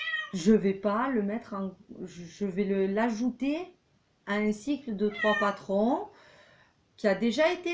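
A pet cat named Hulk meows in short, nasal calls that overlap and follow someone speaking French indoors, her talk running nearly throughout.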